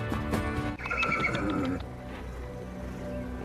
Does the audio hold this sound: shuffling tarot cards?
no